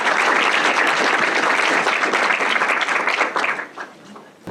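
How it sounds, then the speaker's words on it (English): A crowd applauds loudly and steadily, dense clapping that holds for several seconds before tapering off near the end. "Please give them a round of applause."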